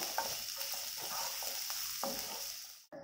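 Onions stirring and frying in a pan until brown, a steady close sizzle broken by repeated spoon scrapes, then cutting off abruptly near the end.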